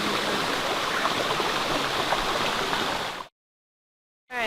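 A waterfall in Royal National Park, New South Wales, pours in a steady, loud rush of falling water for about three seconds, then cuts abruptly to silence before the roar briefly returns.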